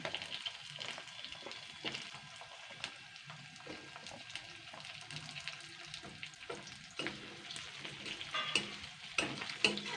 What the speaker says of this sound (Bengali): দুই থেকে তিন মিনিট ক্যাপসিকাম আর পেঁয়াজটা ফ্রাই করে নেব